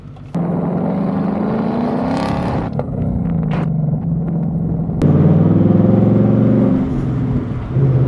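A naturally aspirated 5-liter V8 in a 2024 Mustang GT rumbles steadily at idle, then steps up to a louder, fuller drone partway through, close by and with no one speaking.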